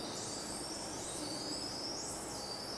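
Faint high-pitched electronic chirps and sweeping beeps simulating dolphins at a dolphin center repeat over a steady hiss of water or ambient noise.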